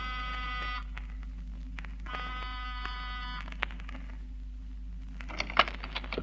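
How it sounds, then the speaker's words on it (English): A door buzzer sounds twice as a sound effect in an old-time radio crime drama: two short, steady electric buzzes separated by a pause, followed by quieter clicks and rustling. "pressed the buzzer"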